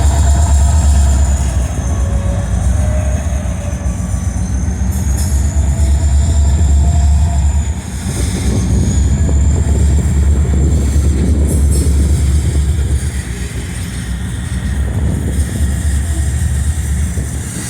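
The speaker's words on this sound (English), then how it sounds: "Those are refrigerated boxcars." A freight train of refrigerated boxcars rolls past close by, a steady loud rumble of wheels and cars with faint metallic squeals, continuous throughout.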